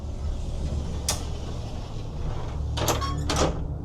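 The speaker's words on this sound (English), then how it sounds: "you have a door here to have privacy for the master bedroom. So you just pull that down" A privacy door for the master bedroom of a Tiffin Zephyr 2026 Class A motorhome is pulled down, giving a creaking slide and a couple of brief mechanical clatters over steady low interior hum.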